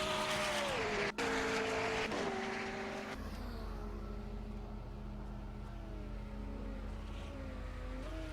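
Hypercar engine in a racing video game, a loud sustained drone with gear-shift pitch sweeps and a sharp break near the start, holding steady for the rest.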